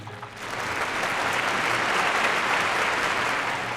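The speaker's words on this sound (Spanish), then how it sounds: "Toda la corte en gran alborozo y revuelo aplaudía al señor virrey" A royal court breaks into jubilant applause for the viceroy. The full, close crowd clapping swells slightly and holds steady for a few seconds.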